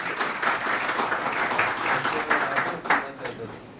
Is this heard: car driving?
no